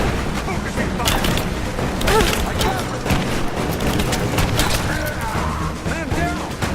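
Dense gunfire fills a firefight in Rise of the Tomb Raider, continuous loud volleys and scattered booms with soldiers shouting over the shooting throughout.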